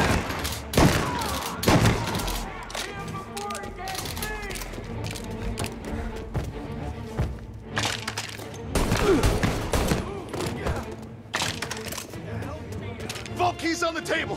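Gunfire during a bank heist in the Mafia Definitive Edition video game: repeated bursts and single shots crack loudly through dense action noise, with shouting voices mixed in.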